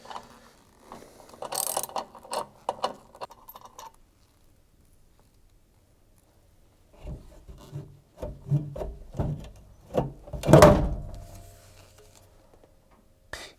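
A socket wrench ratchet loosens the rotor nut on an LG direct-drive washing machine motor, giving short bursts of clicking, grinding ratchet strokes separated by a quiet pause, close and moderately loud, with one louder clunk near the end.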